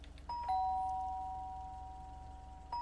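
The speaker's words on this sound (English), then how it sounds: "Ring doorbell." A doorbell in the cozy video game LAKE rings twice, with clear electronic chime tones that sustain and slowly fade. The second ring comes near the end, and the bell sounds alone over a low background hum.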